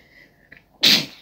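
A single sharp sneeze bursts out close to the microphone after a short breathy intake, loud and abrupt against an otherwise quiet room.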